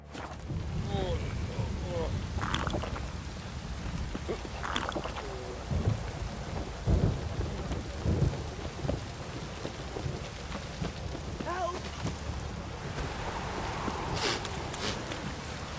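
Steady downpour of rain with low rumbles of thunder in the Witcher 3: Wild Hunt video game, constant and fairly close, with a voice talking briefly over it.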